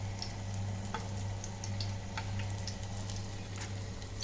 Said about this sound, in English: fry all the mushrooms, okay, in the same manner